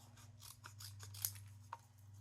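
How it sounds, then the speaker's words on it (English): Scissors snip through paper, cutting printed word strips apart for a Coca-Cola themed craft page; a few quiet, crisp snips fall at uneven intervals over a low steady hum. "I'm going to cut these up now"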